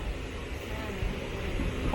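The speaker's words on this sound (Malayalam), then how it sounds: "ആ ലൈനിൽ കൂടെ ഒരു ഫ്രൈറ്റ് വരുന്നുണ്ട്." A freight train of hopper wagons rolls past on the neighbouring line, a continuous broad rumbling roar heard steadily from a nearby passenger train.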